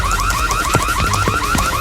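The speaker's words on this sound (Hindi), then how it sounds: "ये क्या? अलार्म क्यों बज रहा है?" An alarm goes off inside a school with a fast, repeating electronic warble. The cycles are steady and evenly spaced, loud and close, with faint clicks in the background and no voices.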